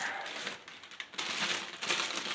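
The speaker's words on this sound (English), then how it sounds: "Wrapped in paper." Paper wrapping being crinkled and pulled off model train cars during an unboxing, close, short rustling and crumpling bursts with no talk.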